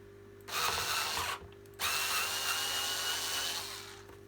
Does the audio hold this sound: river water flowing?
no